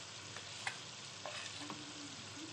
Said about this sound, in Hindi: अब इनको अच्छी तरह मसालों को हम भूनेंगे